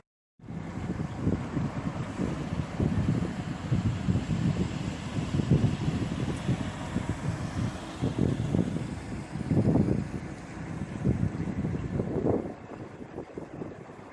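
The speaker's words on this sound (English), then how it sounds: "Fortunately the wind's got up a little bit" Wind blows by a canal near Chester, buffeting the microphone in a steady low rumble that swells in gusts and eases toward the end.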